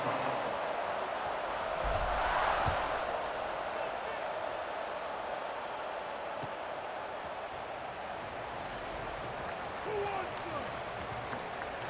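A stadium crowd in the EA Sports College Football 26 video game roars in a broad, steady wash that swells briefly, with a commentator's voice over it.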